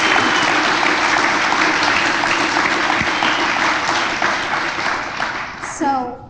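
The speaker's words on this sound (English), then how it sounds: "Can we just get another round of applause for our educators?" Loud, sustained audience applause for educators at a CSEdWeek kickoff panel, gradually tapering off before a voice begins speaking at the very end.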